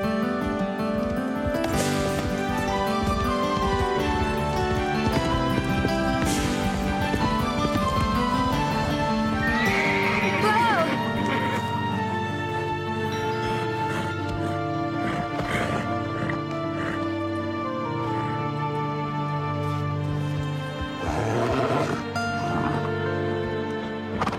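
Racehorses move about with a clip-clop of hooves and occasional whinnies, set against a continuous musical backdrop, moderately loud throughout.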